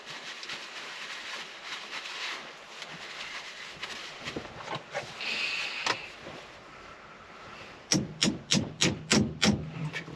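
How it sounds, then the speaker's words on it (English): A hammer drives a bearing into the steering column of a 1991 GMC Sierra: soft scraping first, then a quick run of about seven sharp, close metallic taps in steady rhythm. "tap that in with a hammer"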